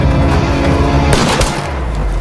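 Gunfire in a film scene gives covering fire, with rumbling action background and a sharp, loud burst of shots near the middle of a short stretch.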